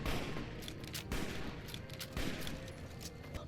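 Rapid gunfire and bursts of shooting in a video game, likely Fallout, with dense overlapping shots and booms running continuously at a steady, loud level.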